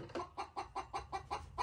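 A hen clucks in a farmyard, about eight sharp, evenly spaced clucks in quick succession, loud and close with no talk over them.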